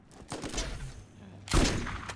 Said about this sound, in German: Ich nehme mal doch die Mehrschussschrotze